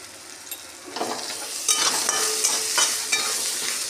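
Chopped onion fries in a pan for mutton curry, a steady close sizzle with brief stirring scrapes that grows busier and louder partway through.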